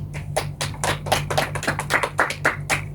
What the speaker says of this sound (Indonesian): Beri tepuk tangan kepada teman-teman yang sudah presentasi di depan.